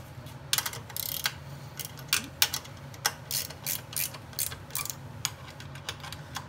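A ratchet snugs up bolts on a 2000 Toyota 4Runner rear drum-to-disc brake conversion, giving rapid, close clicking in short uneven bursts over a low steady hum.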